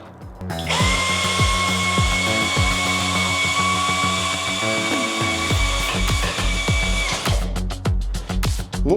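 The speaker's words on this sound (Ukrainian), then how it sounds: "Ну що ж, пробуємо тепер закрутити конструкційний шуруп 300 мм." A DWT ASBP 20 cordless screwdriver drives a 300 mm structural screw with a loud, close, sustained high motor whine for several seconds, then stops and gives a series of short, sharp bursts.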